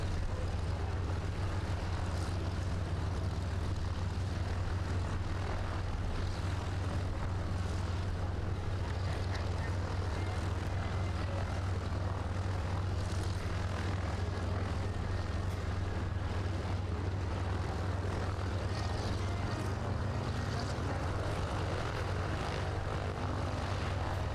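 A fixed-wing propeller aircraft flies over the Parco Victory Festival air display, giving a loud, steady engine drone with wind rumble that holds for the whole stretch and has no talk over it.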